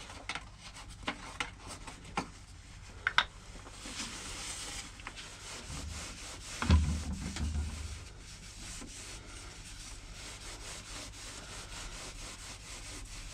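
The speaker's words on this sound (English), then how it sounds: "Then carry on with a bit more sanding" Sandpaper rubbing a purpleheart wood bowl spinning on a woodturning lathe at fine grit, a steady quiet hiss with a low motor hum and a brief louder pass midway.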